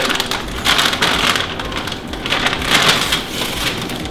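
Backing paper being peeled off a sound deadening mat inside a 2015-2021 Subaru WRX produces a continuous close crinkling, crackling rasp that swells and fades in uneven waves, with no voices.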